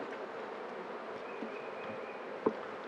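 Honey bees buzz steadily in a thin continuous drone while a spring hive is opened for inspection, with one brief knock or thump near the end.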